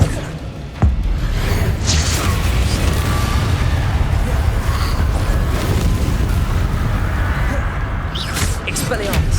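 Confringo fire spell blasting in Hogwarts Legacy on PC: a sharp hit, then a dense, continuous roaring rumble of explosive bursts and whooshes, loud and close throughout.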